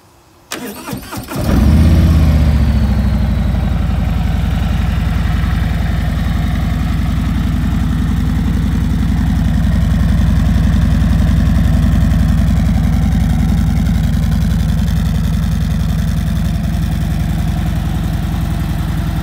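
A 2022 Harley-Davidson Road King Special motorcycle engine sputters and catches after a couple of cranks, then settles into a loud, steady, low idle that rumbles on without a break.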